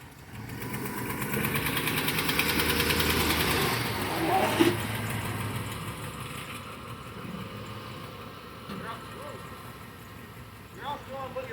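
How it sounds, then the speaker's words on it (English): Car engine idling, then revving as the car is driven up a ramp for an oil change, a steady mid-pitched hum swelling to a louder peak near the middle before settling, with a few clicks and knocks later. "I put it in drive. Get it up this ramp."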